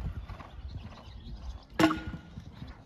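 Horse hooves thud softly and rhythmically on an arena surface during jumping training over a line of obstacles, with one sharp louder impact partway through.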